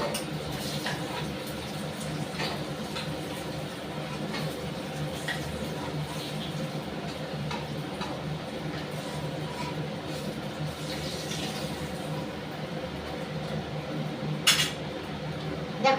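Fried snakehead fish being lifted from a pan into a pot, with metal utensil clinks and scrapes over a steady background of frying, continuous and close.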